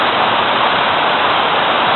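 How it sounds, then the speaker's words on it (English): The Kamaniskeg waterfall roars in a steady, loud, dense rush of falling water that holds constant without a break, with no voices. "But there's the waterfall."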